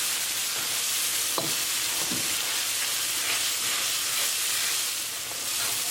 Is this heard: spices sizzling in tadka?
yes